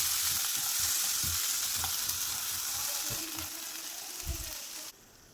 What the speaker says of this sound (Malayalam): ഒന്ന് വാട്ടിയെടുക്കാം.